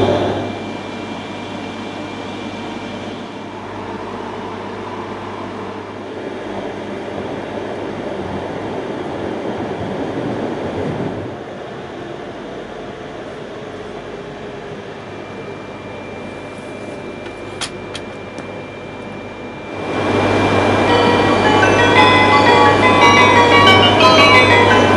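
Steady interior rumble and hum of a Tohoku Shinkansen Yamabiko bullet train in motion, with a brief chime and a louder rushing stretch toward the end.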